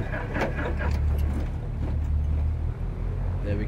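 An aircraft engine in the X-Plane 11 flight simulator runs up through a steady, loud, low droning rumble with a broad roar on top, continuous and close throughout the start.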